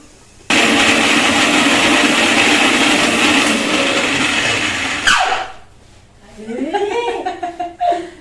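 A kitchen mixer grinder runs with a loud, steady whirring roar for about five seconds, then cuts off abruptly, and voices and laughter follow.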